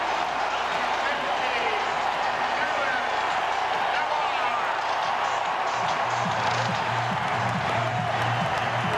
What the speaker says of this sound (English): Ortiz will get the hero's welcome as he heads back to the dugout for the big crowd at Fenway.